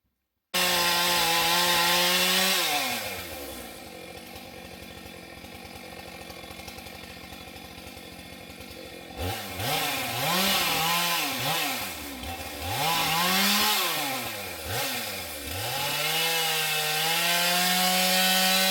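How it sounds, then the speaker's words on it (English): A chainsaw cutting firewood outdoors, loud and close, the engine holding steady at first, then dropping under load through a long cut and revving up and down repeatedly as it bites into the wood. "we're taking a little break from cutting firewood"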